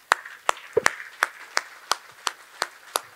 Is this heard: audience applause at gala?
yes